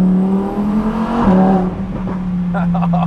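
Lamborghini Huracan EVO with its exhaust valves open, a loud, close V10-style drone that rises and then breaks into sharp crackling downshift blips near the end, with a voice talking over it.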